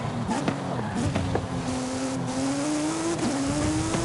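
A car engine in the racing game Forza Horizon 5 holds a loud, steady rev, its pitch climbing gradually with small dips as the gears shift, close and continuous throughout.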